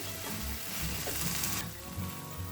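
Masala of turmeric, Kashmiri chilli and red chilli powders fries in a pan for pav bhaji, a dense close sizzle with a few stirring scrapes, continuous throughout with no talking.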